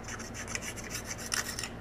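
A yanagiba kitchen knife blade being abraded by hand makes quick, rhythmic rasping strokes, about a dozen close scrapes in a row, near and fairly loud.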